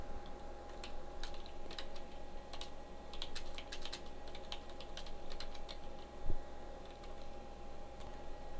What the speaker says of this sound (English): I'm going to start by typing a heading tag.